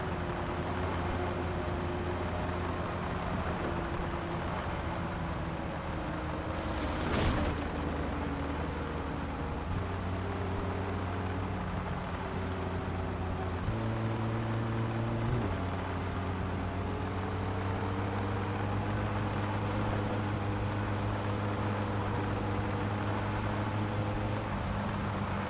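A car engine in the My Summer Car video game runs at steady high revs with the choke still out. It drones on alone at an even level, with small shifts in pitch and one brief click partway through.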